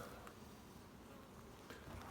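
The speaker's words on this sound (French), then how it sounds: "Donc toujours, on prévient les abeilles" Honeybees buzzing at an open beehive during a hive inspection, a soft steady drone of many insects, faint and continuous with no talking.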